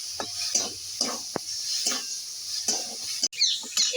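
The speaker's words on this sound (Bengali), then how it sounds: "একটু নেড়ে ছেড়ে নেবো, লোটে মাছের ভেজে নেবো এর সঙ্গে" Loitta fish stirred with spices in a frying pan: soft scraping strokes of a spatula come in short repeated bursts over a faint background sizzle, close and fairly quiet.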